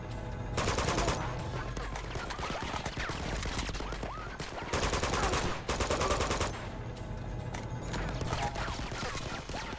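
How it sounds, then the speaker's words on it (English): Automatic machine-gun fire from a third-person shooter game set during gunfights, loud, dense bursts running nearly nonstop with brief pauses, over a busy layer of game effects and music. "you mean that machine gun that I can hear now"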